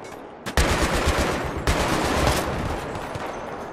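Battlefield 3 co-op combat gunfire: a sharp shot, then continuous loud automatic fire with overlapping bursts that fills the whole stretch, close and dense, with no voices.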